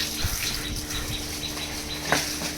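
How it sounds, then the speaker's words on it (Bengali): Water splashed by hand, a steady close wash of splashing and trickling with a brief louder splash near the end, no voices. "এমনি করে ছিটে জল দিতে মাস্ট স্যাটিসফ্যাকশন আই"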